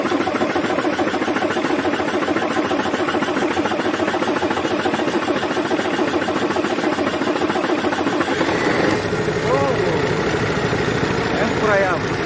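A MAN TGA truck diesel engine with a low-pressure fuel fault runs at a steady, heavy idle, a constant rumbling throb throughout, with a slight change in tone partway, while people talk nearby.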